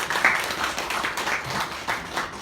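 An audience at a seminar claps to welcome a professor, a moderately loud ripple of hand claps rising and falling in uneven waves.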